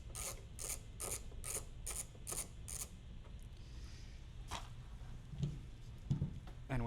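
Light screws being backed out during a rear diffuser install on an Audi RS3 8Y, heard as a quick run of about eight evenly spaced ratcheting clicks from a tool, followed by a few softer scattered taps and clicks, close and fairly quiet.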